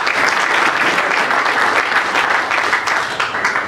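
Loud, steady applause from voters at a union election meeting in a hall, sustained without a break for several seconds with no voices standing out.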